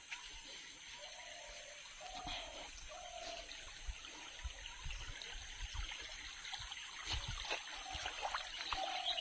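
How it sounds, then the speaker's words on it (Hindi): A small forest stream by a village temple trickles and gurgles softly, with faint splashes and a few distant bird or voice tones above the flow. "यही देख झरना पानी बहुत सुंदर झरना पानी"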